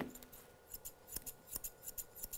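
Close snipping from curved grooming scissors working through a miniature poodle's hair, with about a dozen sharp metallic clicks in an uneven rhythm and no voices.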